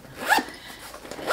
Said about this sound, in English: And it zips, the bottom zips.